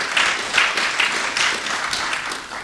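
A church congregation applauding, a steady wash of many hands clapping together at moderate loudness for a few seconds.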